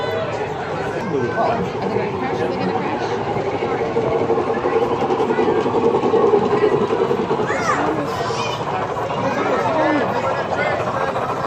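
A train rumbles past with a continuous rolling clatter at a Day with Thomas the Tank Engine event while people chatter nearby throughout.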